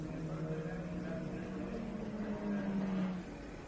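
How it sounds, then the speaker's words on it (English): A BMW race car, number 24, passes on a racing circuit, its engine a steady mid-distance drone with a rising pitch that fades near the end, heard alone without talk. "here comes Steven Backenberg in the 24 BMW. Sounds great."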